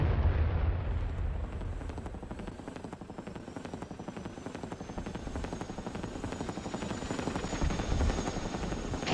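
A helicopter in a VRChat flight-chase game thrums with a steady, loud, rapid rotor chop throughout, close and continuous, with no talk over it.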